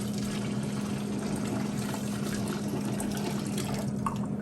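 Water pours steadily out of a glass jar in a kitchen during tomato sauce making, a continuous close gushing splash with a faint tonal ring that lasts throughout.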